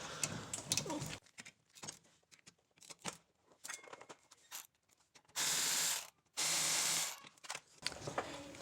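A ratchet loosening the 14 mm caliper guide pin bolts on the rear brakes of a 2017 Nissan Maxima, with close rapid clicking and two loud, sustained whirring bursts near the end.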